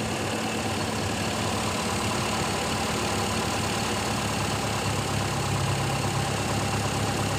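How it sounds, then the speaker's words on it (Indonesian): A car converted to run on CNG idles steadily after its gas reducer was adjusted, giving an even, continuous engine hum at moderate level with no breaks or revving for the whole stretch. "Suara mesin lebih halus ya teman-teman, tidak ada suara semacam desisan dari karbu, mulus."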